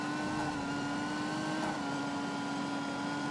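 An oncoming car passes in Ghost Recon Wildlands, a steady engine hum with a faint swell midway and no talk.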